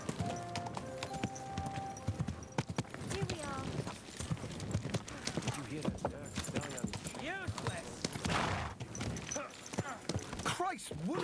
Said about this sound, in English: Christ, watch out with that horse.